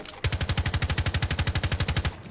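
Rapid automatic gunfire in a shooter video game, a single sustained burst of about twenty evenly spaced loud shots lasting roughly two seconds, close and punchy with no talk over it.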